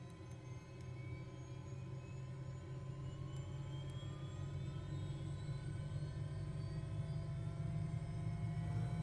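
A helicopter engine spools up in a flight simulator game, a steady turbine whine rising slowly in pitch over a constant low hum, moderately quiet and alone with no talk.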